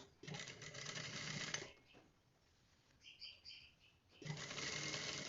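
A sewing machine stitches the front crotch seam of trousers in two steady runs, with a quieter gap between them that holds faint chirping sounds.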